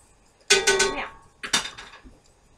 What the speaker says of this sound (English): Keep stirring it up.